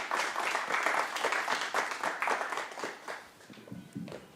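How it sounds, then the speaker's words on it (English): A room full of listeners applauds the poet Dee Majek as she is welcomed to perform, the clapping dense and moderately loud at first and then gradually thinning and fading toward the end. "Round of applause,"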